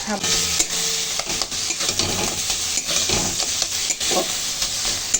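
Onion and green tomato mash worked around a pan, giving a continuous frying sizzle with repeated scraping and clattering strokes of a utensil up close.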